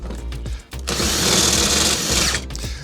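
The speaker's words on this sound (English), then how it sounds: "When using a drill, obviously the drill's not that strong." A cordless drill whirs in short bursts and then one longer steady run as it winds down a caravan's steady legs on a campsite, loud and close, with no talking.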